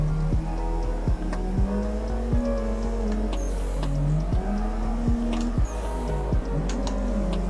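Racing car engine in a drifting video game, a steady droning note with repeated sharp clicks and revs rising and falling through shifts, loud and close with no talk.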